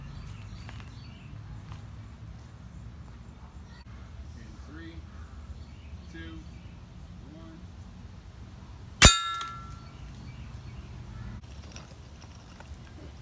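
A Daisy Powerline air gun fires a steel round ball into a steel can: one sharp crack and a bright metallic clang that rings briefly, standing out from steady low background noise.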